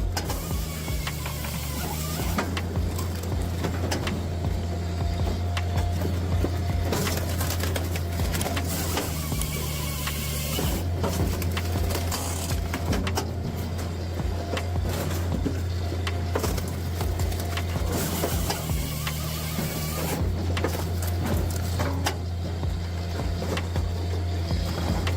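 A horizontal wood grinder shreds tree waste with a loud, continuous mechanical roar and low engine drone, punctuated by rattling, grinding bursts that swell and ease in roughly regular cycles, with no voices.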